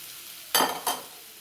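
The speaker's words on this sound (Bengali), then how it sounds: "দিয়ে আবার একটু কষিয়ে নেব। আলু মশলাগুলো একসঙ্গে মিক্স করে নেব।" Fried potatoes with spices for ghugni are stirred in a pan, two quick scraping strokes with a brief sizzle over an otherwise quiet background.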